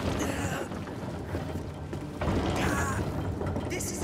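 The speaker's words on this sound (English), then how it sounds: "That's what the crank on the other side is for." Heavy crank mechanism grinding and turning in A Plague Tale: Requiem, a continuous rumbling, ratcheting creak with steady mechanical clatter that swells partway through, alongside ambient game sound.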